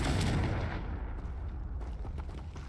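A Confringo fire spell bursts in Hogwarts Legacy, a loud, dense blast of broadband crackle and rumble that fills the clip and then settles into a sustained roar.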